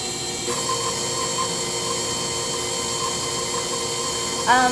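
KitchenAid stand mixer blending sugar for cupcake batter, a steady motor hum with a faint rhythmic whir throughout and a brief louder clatter near the end, no speech.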